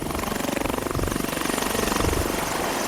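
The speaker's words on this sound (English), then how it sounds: "Efforts to find engine parts or a replacement helicopter for the area were rewarded with the arrival of a Sydney lifesaver today." A twin-engine rescue helicopter arriving from Sydney throbs with a steady, loud rotor chop, a continuous pulsing roar that stays close and even throughout.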